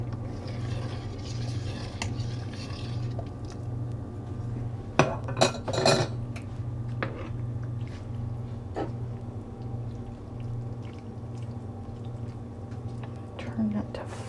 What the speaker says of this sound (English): Give our noodles a mix.